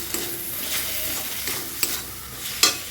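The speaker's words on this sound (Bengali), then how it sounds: "এবার এটাকেও একটু ভালোভাবে আমি কষিয়ে নেব।" Spice paste with salt and garam masala sizzles in a pan for an egg and eggplant curry, a steady close frying hiss broken by a few sharp spatula scrapes and clinks against the pan, no voices.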